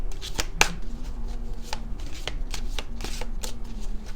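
Oracle cards are shuffled by hand for a chakra reading, a continuous close riffle of soft slaps and flicks with a sharper snap early on, steady and without speech.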